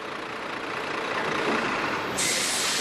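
Truck air brakes during truck testing: a loud, sustained broadband hiss of released air that swells over a couple of seconds and then sharpens into a brighter burst near the end.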